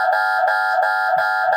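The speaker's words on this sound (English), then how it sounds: "it's turn on the alarm" An electronic alarm triggered by a Python OpenCV fire detection program blares loudly and continuously, a steady buzzing tone pulsing in short repeated cycles, close and alone.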